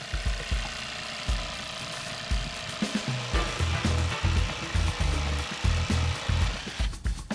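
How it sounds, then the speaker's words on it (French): A jigsaw buzzes and rattles in repeated bursts, stopping and starting as it chews through vertical wooden slats of a garden screen, close and fairly loud. "Nous tenons la scie sauteuse légèrement inclinée afin de pouvoir couper facilement les lattes verticales"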